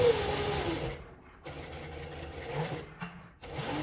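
A sewing machine stitches a fabric card purse, running in short close bursts with brief pauses between, as when backstitching and sewing forward again.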